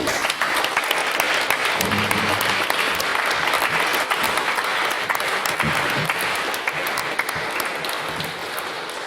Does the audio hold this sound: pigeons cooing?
no